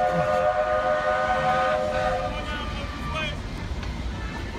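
Steam train whistle at Magic Kingdom sounds as a sustained, fairly distant tonal blast that fades out, under outdoor crowd noise and a nearby voice talking.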